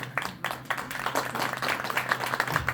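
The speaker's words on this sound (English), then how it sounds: "Let's give him a round of applause." Audience applause from a veterans panel gathering, a steady patter of many hands clapping at moderate distance for a few seconds, with faint voices mixed underneath.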